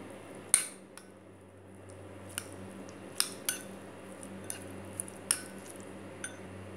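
A spoon mixing chopped carrot and beetroot in a bowl for a veg mayo sandwich filling gives sparse, light clinks and soft taps against the bowl, spread irregularly over a quiet background hum.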